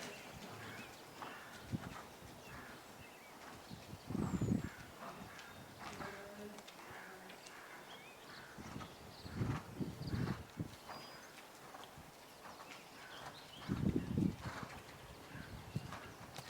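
A young horse canters outdoors, its hooves giving several rhythmic thudding clip-clop bursts over steady ambient noise, with occasional faint birdsong.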